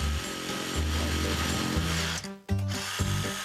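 A power saw cuts a large hole in wood, a steady whining motor drone that dips briefly and then resumes, with no voices.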